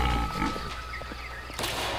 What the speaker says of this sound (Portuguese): Porco selvagem gigante, eu descobri ele.